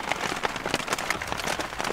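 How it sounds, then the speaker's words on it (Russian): Night rain patters on the roof of a dugout bunker in the woods, a dense and steady spatter of close drops with small irregular ticks and no voices. "Надеюсь, блин, дождь будет не всю ночь."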